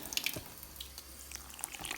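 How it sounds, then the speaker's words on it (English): Hot water is poured into a bucket of dry sugar, giving a quiet splashing, trickling stream with small bright drips and gurgles over about two seconds, close by and alone. "So what I'm going to do now is start adding hot water to it."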